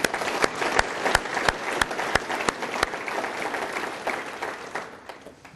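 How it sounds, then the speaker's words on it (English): A city meeting audience claps for a fire captain and his staff, with a few sharp, close hand claps standing out over broader applause that tapers off. "they deserve a round of applause"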